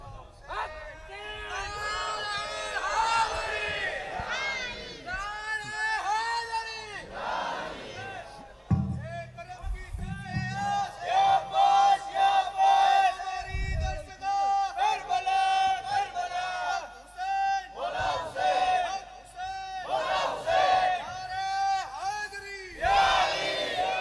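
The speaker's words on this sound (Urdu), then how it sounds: "ارے یار حسین کا نعرہ لگاؤ یار، نعرے حیدری تو لگاؤ" A crowd of pilgrims on a ziyarat journey raising loud religious slogans and battle-cry shouts in repeated waves, with voices overlapping in a noisy, excited group.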